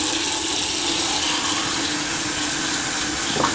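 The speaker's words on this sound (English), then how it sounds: "I'm running some water just to see how bad it actually is plugged up" Water runs steadily from a tap into a partly clogged bathroom sink drain, a close, continuous splashing rush with no talk.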